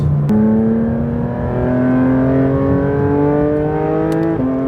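A 2024 Porsche 911 GT3 RS flat-six revs hard under acceleration, loud and close with a rising high-pitched wail, a quick gearshift snapping near the start and another near the end, no voices.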